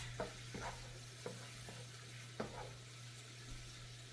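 Pork belly stirred in a pan to coat it, with faint scattered scrapes and taps of the utensil over a quiet low sizzle and a steady hum, no talk.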